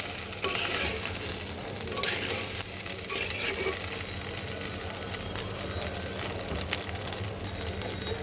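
Cauliflower curry with green chillies fries in a pan, giving a continuous close sizzle with occasional stirring scrapes and no talk.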